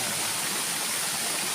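Waterfall near a temple at Ban Na Ang, Na Tan subdistrict, rushing in a steady, even hiss of falling water, moderately near and alone with no voices.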